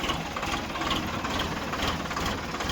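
A tractor engine runs steadily with a low rumbling drone and knocking texture as Ramji drives it through a wheat field during harvest, close and continuous with no talking.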